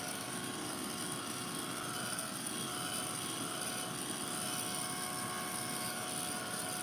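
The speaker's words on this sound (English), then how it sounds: "I am going to dry this bit off because I got it a bit too wet before I put my next colour on." Steady, loud whirring hum of a heat dryer drying wet paint on an art journal page, an unbroken close airflow drone throughout with no talking.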